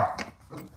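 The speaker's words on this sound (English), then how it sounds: "I have a loud dog that likes to bark at random motions for no reason." A loud dog barks once or twice at a distance in a quiet indoor space, a short muffled burst where knife sharpening is underway.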